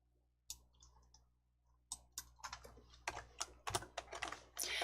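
Crisp computer clicks and key presses at a desk, a few sparse taps, then a quicker irregular run of close, light clicks in a quiet room.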